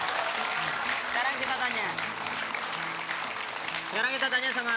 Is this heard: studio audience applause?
yes